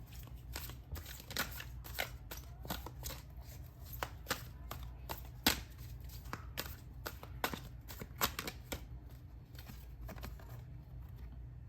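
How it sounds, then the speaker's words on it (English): Oracle cards being shuffled give a quick run of soft, dry riffling clicks and flutters, close but faint, with no talk. "Let's draw some oracle cards."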